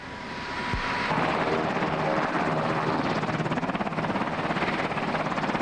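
A Marine military helicopter's rotor thumps steadily as it grows louder and passes close overhead, a loud rhythmic chopping with engine whine and no voices.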